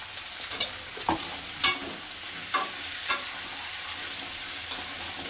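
Onion, garlic, ridge gourd and vegetable stems frying in a pan, a soft continuous sizzle broken by several sharp scrapes and clatters of a spatula stirring, close by and without speech.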